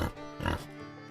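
A pig on a farm grunts and oinks in short, close, fairly loud bursts, with one stronger snort near the middle of the brief moment.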